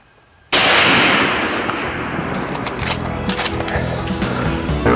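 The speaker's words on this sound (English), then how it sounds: "Safety clicks off, he holds his breath, and he slowly squeezes the trigger." A single loud hunting rifle shot cracks out of silence, followed by a long rolling outdoor echo and reverberant decay.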